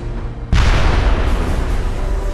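Heavy siege artillery from Medieval 2: Total War, with cannons, mortars and a monster bombard, erupts in a sudden loud blast about half a second in, then rumbles on as sustained booming roar.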